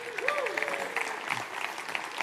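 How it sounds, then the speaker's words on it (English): Audience at a developer conference gives a sustained round of applause, the clapping steady and fairly faint while a voice rises briefly above it. "Let's give a round of applause"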